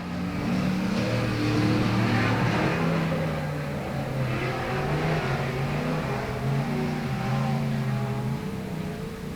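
Race cars in the first heat race of the evening at South Texas Speedway, a dirt track, roar steadily with layered engine drones that rise and fall as several cars run through the turns, loud and continuous with no talk.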